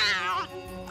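A single drawn-out cat meow, close and fairly loud, rising and then falling away in under a second.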